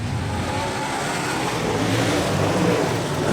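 Super sedan race cars accelerating together at a restart during a night race meeting, a dense steady roar of engines building slightly in intensity, loud and continuous with no speech.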